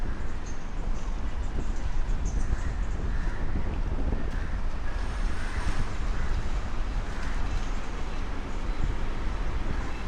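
Steady wind buffeting the microphone at a wet, breezy beach at Alappuzha in Kerala, a continuous roaring rush with low rumble throughout, loud and unbroken, with no voices.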